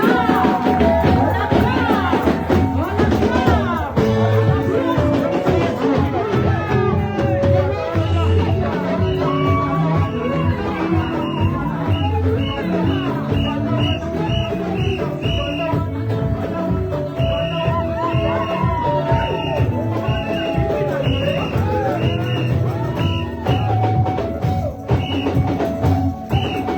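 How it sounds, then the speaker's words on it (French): A church congregation at a Sunday worship service cheers and acclaims Papa Wilson, a loud, sustained crowd roar of shouts, whoops and whistles layered with voices and music throughout. "Et quand j'appelle la personne de Papa Wilson, on acclame."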